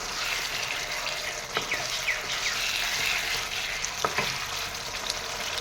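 Chicken curry with radish stirred in a pan over a steady sizzle, with a few scraping strokes of the spoon and light knocks against the pan, close by.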